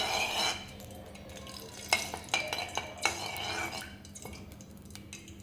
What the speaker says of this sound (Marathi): पण तूप आपल्याला आता पूर्ण असं वितळून घ्यायचं आहे